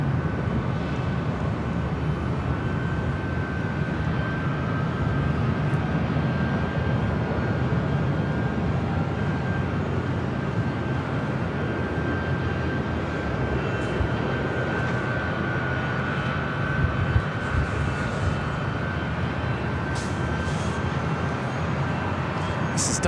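Delta Boeing 757-200 jet airliner at LAX, a steady broad engine roar with a faint high whine that holds loud and unbroken throughout, as if heard from nearby on the airfield.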